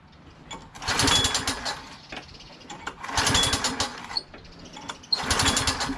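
A push lawn mower engine is cranked repeatedly, three loud bursts of sputtering, rattling turnover with short gaps between, failing to catch and settle into running.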